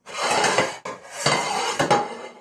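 A ceramic plate and a lid clatter and scrape against a metal cooking pan in a home kitchen, several loud clinks and knocks in two bursts, close and alone without speech.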